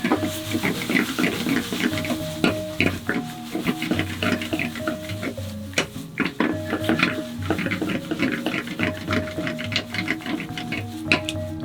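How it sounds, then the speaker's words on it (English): Indonesian seafood noodles with shrimp being stirred in a pan, with continuous close scraping and clattering of a utensil against metal, busy and steady throughout, with no voices. "Stir this bad boy up."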